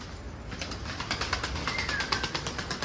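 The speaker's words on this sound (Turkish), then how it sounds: "Bak şu an bütün kuşlar geldi." Pigeons arrive on a rooftop, fluttering and flapping their wings in quick rhythmic beats, with soft cooing mixed in, fairly close in an outdoor space.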